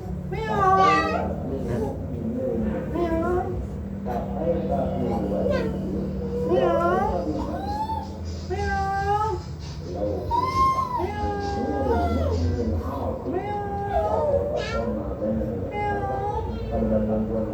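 A child imitates a cat, giving repeated sing-song meows in quick succession, close and fairly loud, mixed with a child's chatter throughout.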